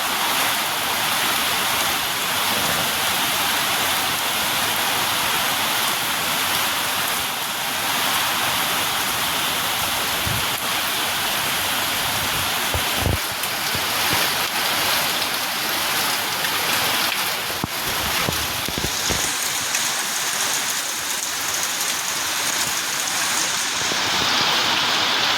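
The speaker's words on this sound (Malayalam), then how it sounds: "അതും പ്രത്യേകിച്ച് ഇങ്ങനൊരു മഴ പെയ്യുന്ന സമയത്ത്." Heavy rain falls steadily with wind, a dense, continuous hiss at close range that lasts throughout with no voices, and a few faint knocks sound in the middle.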